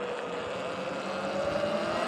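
Sur Ron electric dirt bike pulling a fast-mode wheelie, giving a steady rising electric motor whine with wind and tyre rush, fairly loud and continuous with no talk.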